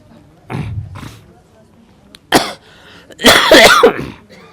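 Several harsh coughs and throat-clearing bursts up close, separated by brief pauses, the last one loud and drawn out.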